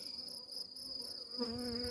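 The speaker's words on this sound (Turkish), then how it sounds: "Arı yoğunluğu o kadar çok olduğu için" Dense honey bees hum steadily in an open hive, a close, continuous buzz with a brief louder swell near the end.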